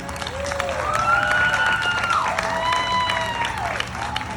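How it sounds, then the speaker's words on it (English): A crowd at the Coal Salute Freedom Festival applauds and cheers for the town of Chapmanville, a moderate outdoor clapping that runs under a speaking voice. "Let's give one more round of applause to Chapmanville."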